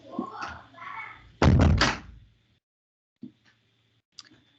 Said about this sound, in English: I will just close the door.